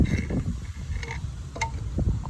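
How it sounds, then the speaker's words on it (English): Low rumbling buffets of wind battering the microphone continuously, with a few faint clicks and creaks mixed in. "It's super windy right now."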